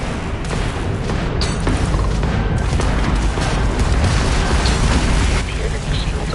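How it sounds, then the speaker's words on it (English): A hull missile fired at an enemy ship during a Starfield space battle: dense, continuous booming blasts and rumbling explosions fill the whole stretch, loud and close with no pauses. "we can lock in to fire a hull missile"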